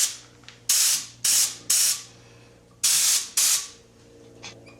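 Short bursts of spray gun gel coat being blended out around a repair patch on a Carlson CVX-18 boat, five sharp hissing blasts with brief pauses between them, close and loud, with no talk.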